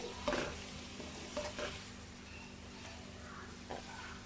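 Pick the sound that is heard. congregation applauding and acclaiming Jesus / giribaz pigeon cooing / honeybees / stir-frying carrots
stir-frying carrots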